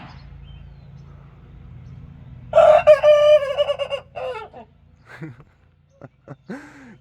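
A young rooster's strained, breaking crow rises loudly for a couple of seconds, followed by a few shorter squawks and chirps over low background rumble.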